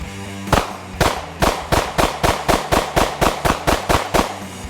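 A Springfield Armory Hellcat 9mm subcompact pistol fired in a rapid mag dump: about fourteen loud, close, evenly spaced shots in quick succession.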